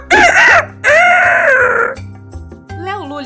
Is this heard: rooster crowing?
yes